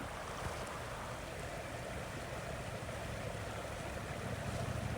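The Snake River in Yellowstone rushes in a steady, even wash of flowing water while a backpacker wades across, with no voices.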